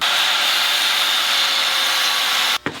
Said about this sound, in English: Now I gotta cut this bolt off